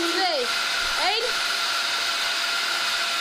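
A running vacuum cleaner whines steadily, its hose sucking at a person's mouth, with two brief rising and falling pitch sweeps near the start as the suction changes.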